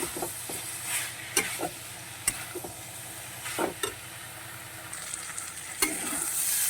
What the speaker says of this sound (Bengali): এই ভাজা কপিটা দেওয়ার পরও আমি এক দেড় মিনিট কষিয়ে নেব